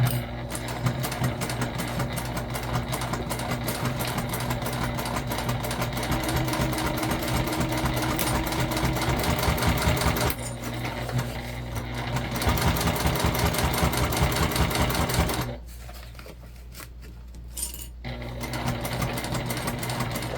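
A sewing machine stitching a waist pack, a fast steady mechanical rattle at close range that runs in long stretches and pauses briefly twice before starting again.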